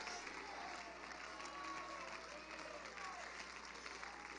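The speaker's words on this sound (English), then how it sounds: "Clap your hands to the Lord" Church congregation clapping hands during a fiery sermon, a continuous crowd of claps with faint voices and cheers mixed in, steady and somewhat distant.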